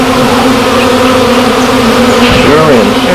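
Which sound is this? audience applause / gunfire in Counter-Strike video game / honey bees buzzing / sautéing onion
honey bees buzzing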